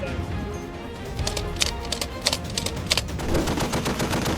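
M2 Browning heavy machine gun firing in rapid bursts of sharp cracks over a low rumble, moderately loud and alone.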